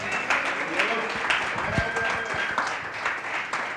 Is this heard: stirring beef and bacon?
no